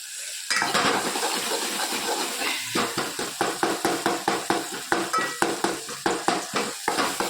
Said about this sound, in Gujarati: બાજુમાં જો મરચાં તળી રહ્યા છે